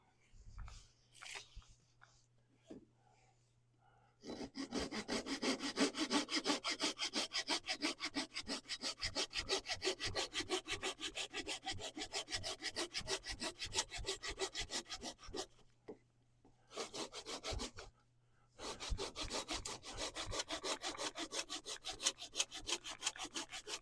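A handsaw cuts rhythmically through a woodturning blank, rapid steady back-and-forth strokes close up with two brief pauses, after a few soft sounds at the start.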